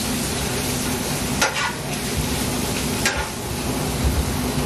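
Garlic and butter sizzle in a pan with a dense, steady frying hiss, close and fairly loud, with a few brief clatters of stirring and no talking.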